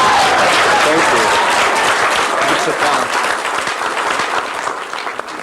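Loud applause from an audience at a spiritual workshop on sex and love, steady broadband clapping that thins slightly toward the end, with a voice speaking briefly over it.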